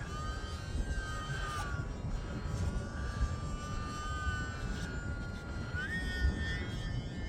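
A small E-flite UMX Timber X RC model airplane flying outdoors over snow in wind, its thin electric motor whine steady and moderately distant, rising in pitch near the end over broadband wind noise.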